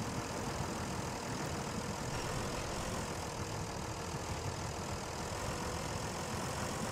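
Heavy truck engine in the SnowRunner game straining under load while stuck in mud and being pulled by a tractor, a constant loud low rumble with no letup.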